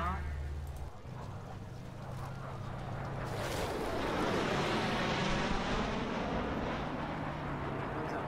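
Bomber aircraft in the game GLOPs pass with a broad, rumbling engine roar that builds into a heavy, sustained drone, with a voice talking over it throughout.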